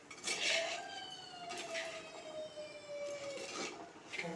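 Vendakkai puli kulambu, an okra tamarind curry with sambar powder, is stirred in a pot. A few faint metallic clinks of a spoon against the vessel are spaced apart, over a steady thin tonal whine in the background.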